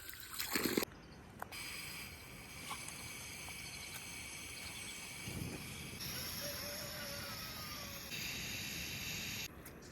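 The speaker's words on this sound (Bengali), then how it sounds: "এই কাঠটা পেয়েছি এটা ধুয়ে নিচ্ছি" Water trickles and splashes steadily as a wooden chopping board is rinsed at a mountain campsite in Gurdum Village, Darjeeling, a soft, continuous pour close by with a faint thump near the start.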